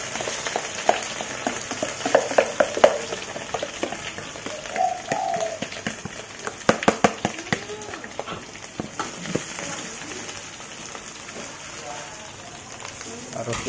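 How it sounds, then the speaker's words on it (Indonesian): Anchovy sambal mixture frying in a pan, a steady bed of sizzling and spitting with scattered sharp crackles and pops, with brief talking over it. "Ayo kita goreng."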